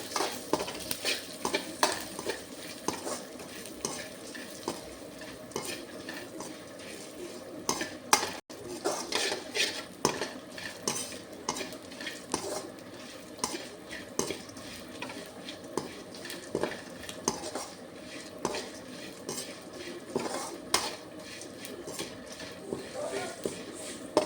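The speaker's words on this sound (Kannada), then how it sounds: "ಇದನ್ನೆಲ್ಲ ಒಟ್ಟಿಗೆ ಹಾಕಿ ಫ್ರೈ ಮಾಡ್ಕೊಳ್ಳಿ." Cumin, mustard seeds, fenugreek, red chillies, cardamom, cloves and cinnamon are stir-fried together in a pan, a busy rattling of seeds and constant clinking spoon-on-metal scrapes over a light sizzle, close and continuous.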